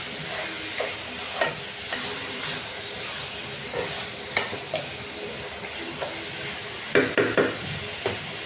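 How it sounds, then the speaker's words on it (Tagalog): Goat meat being stirred in a cooking pan over a soft background sizzle, with a spoon scraping and knocking at irregular intervals, close and fairly quiet, with no talking. "Haluin mo nang haluin."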